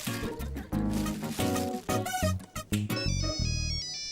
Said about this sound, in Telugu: ఫోన్ మీకే వచ్చింది.